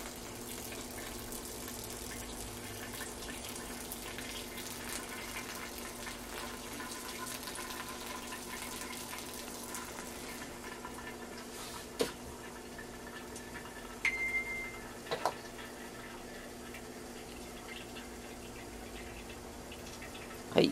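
Hot water poured slowly from a drip pot onto coffee grounds from about 60 cm up, a continuous soft splashing trickle that holds steady and close, with a few faint clinks toward the end and no talking.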